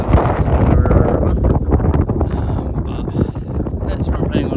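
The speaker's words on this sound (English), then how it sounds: "It's windy at the moment" Strong wind buffets the microphone in loud, rumbling gusts in the Kaimanawa mountains, New Zealand, with a voice speaking over it.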